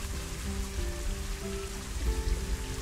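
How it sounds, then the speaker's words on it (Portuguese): Rain falls steadily in the Planet Zoo game, a dense, even hiss of drops spread across the scene with a faint low musical drone beneath, continuous and moderately loud throughout. "E ficou muito real com essa cor da água. Essa chuva."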